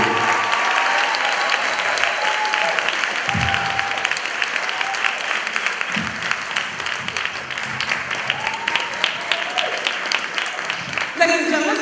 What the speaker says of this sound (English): let's give another round of applause for this Robert Johnson